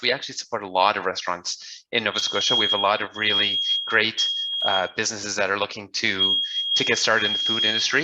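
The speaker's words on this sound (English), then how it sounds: "I'm in a building that has an alarm going off right now." A building alarm beeps in a repeating high pitched tone, sounding in bursts beneath a man's steady nearby speech indoors.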